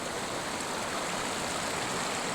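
Clear mountain water flowing in a stream near Barangay Mabuhay, a loud, continuous rushing wash close by with no pauses and no voices.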